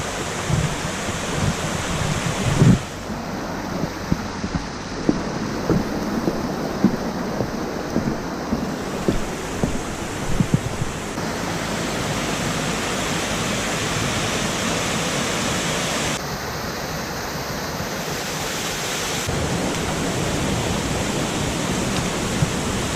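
Four-metre waterfall in Pekel Gorge near Borovnica, Slovenia, a steady close roar of falling water filling the whole stretch, with a few brief knocks and shifts in level.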